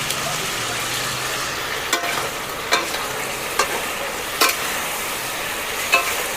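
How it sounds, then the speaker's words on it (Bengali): Fish curry being sautéed in a pan, a low steady sizzle with periodic sharp clinks of a spatula scraping and stirring roughly every second, close and moderately quiet. "একটু ভালো করে কষাই"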